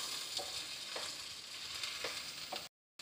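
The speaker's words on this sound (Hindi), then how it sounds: "हरी मिर्चों को मैं थोड़ा सा इस ऑयल में फ्राई करूँगी ताकि" Green chilies fry in oil, giving a continuous crackling sizzle broken by a few soft stirring scrapes, with no voices, before cutting out briefly near the end.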